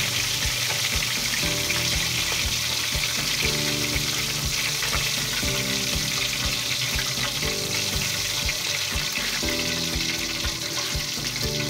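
Salted egg shrimp frying in a pan, a loud steady sizzle and crackle throughout, with periodic stirring and scraping sounds and no voices.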